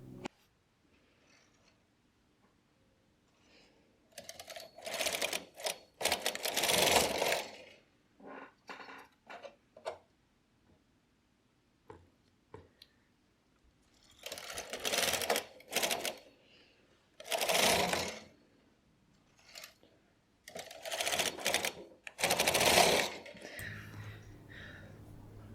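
A standard gauge knitting machine carriage working bulky yarn, heard as repeated bursts of rattling, clacking passes separated by quiet gaps, several strokes at close range without talk.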